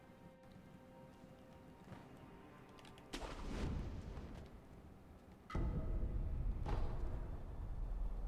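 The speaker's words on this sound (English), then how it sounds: "I see a guy with a cannon." Enemy cannon in the Sekiro video game booming twice, at about three and five and a half seconds, each blast a heavy low thud with a rumbling tail over steady ambient game noise, with a brief spoken word early on.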